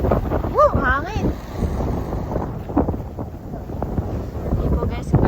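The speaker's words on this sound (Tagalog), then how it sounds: "sobrang hangin po dito ngayon" Strong wind buffets the microphone in an outdoor park, a steady loud rumble of gusts with people talking over it throughout.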